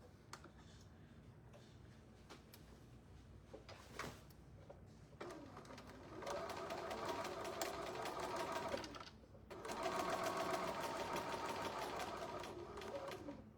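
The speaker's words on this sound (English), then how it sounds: "And we just sew" A sewing machine stitches a candy corn fabric table runner: quiet handling clicks first, then two sustained whirring runs of rapid stitching, fairly faint and close, with no talking.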